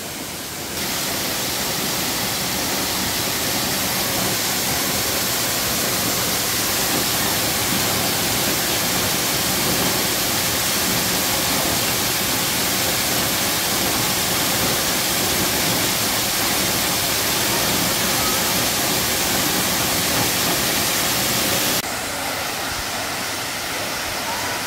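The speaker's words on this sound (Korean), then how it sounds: "저 뒤쪽에 수옥 폭포가 보입니다" Suok Falls in Goesan, a 20 m waterfall dropping onto a rock ledge ringed by cliffs, roars in a loud, steady, dense wash of water that carries on unbroken, with no voices over it.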